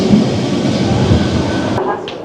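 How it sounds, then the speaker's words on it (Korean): An old-style Lisbon tram in Portugal rumbles past close by with low rolling wheel noise and faint rattling, steady for most of the moment before cutting off abruptly near the end. "이 포르투갈 리스본의 트램은 아주 올드합니다"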